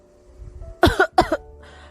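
A wounded man, his face half covered by a black mask, coughs twice in two rough, close bursts. Each burst is short and loud against a quiet room with a low hum, and no one speaks.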